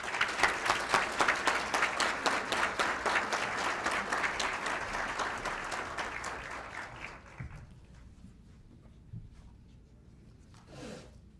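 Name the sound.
audience applause welcoming author Max Puig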